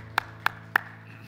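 A congregation at a Korean church's Sunday service claps three times in a slow, even rhythm, each clap crisp and separate over a low steady hum.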